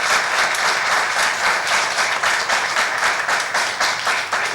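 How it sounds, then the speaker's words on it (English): A dense, loud round of applause from a gathered audience at a closing session, with steady sustained clapping throughout and no voices over it. "He deserves a big round of applause"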